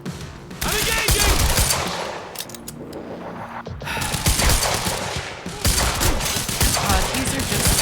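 Rapid machine gun bursts and scattered gunfire crackle loudly in a video game firefight, with brief lulls between volleys and faint voices underneath.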